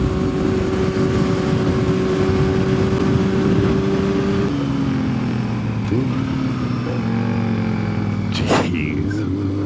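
A Yamaha R6 or Kawasaki Ninja 650 motorcycle runs loud and close at an airstrip, a steady engine drone that shifts pitch partway through as speed changes, with wind rush throughout.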